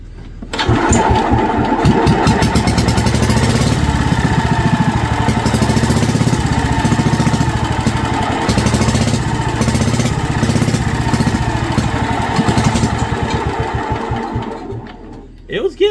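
A Wisconsin AB engine on a military Signal Corps generator cranks and catches, then runs at a steady fast chugging idle for many seconds, close and loud, before cutting out near the end.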